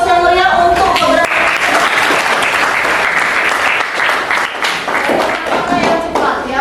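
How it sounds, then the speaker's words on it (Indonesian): A classroom of high school students applauding, producing loud, sustained, dense clapping close by for several seconds, with voices mixed into the applause. "Terima kasih sekali lagi untuk aplaus yang meriah untuk keberanian."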